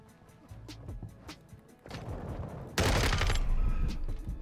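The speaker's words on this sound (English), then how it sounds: "Someone's shooting. Don't know from where." Gunfire in the Modern Warfare 2 video game: scattered distant shots crackle at first, then a loud, sustained burst of rapid fire erupts in the second half and continues to the end.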